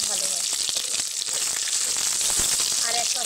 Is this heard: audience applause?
no